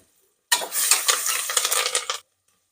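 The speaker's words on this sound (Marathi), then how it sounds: "हळद, कांदा सर्व परतून घ्यायचं." Turmeric and onion sautéing in a pan with curry leaves and peanuts for masale bhaat, a burst of close, steady sizzling and scraping stirs lasting under two seconds between short silences.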